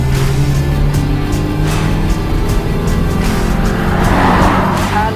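A Toyota Fortuner 4x4 SUV accelerating in manual mode with the AC off, its engine droning loudly and steadily from inside the cabin as revs build, with a rising whine near the end and a voice talking over it.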